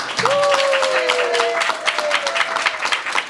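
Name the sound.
audience applause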